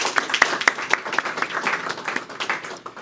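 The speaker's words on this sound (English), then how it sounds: "Please join me in a round of applause and thank you to our sponsors for their generosity" Applause from an audience at an awards ceremony, moderately loud, with distinct individual claps popping out of a steady clatter that fades slightly toward the end.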